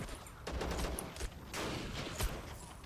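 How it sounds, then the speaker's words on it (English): Machine gun fire in a World War era video game mod, a faint, distant rattle of several guns shooting in irregular bursts and volleys with no talk. "A lot of guns firing on him."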